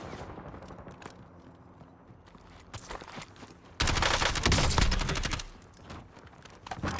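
Sniper fire rings out in an online shooter game, a few sharp distant shots and then a loud close burst of gunfire, with soft movement sounds between them.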